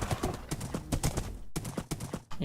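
Horse hooves in the video game Minecraft clip-clop in a quick, steady rhythm, close and fairly loud, broken by a couple of brief gaps, with no voices.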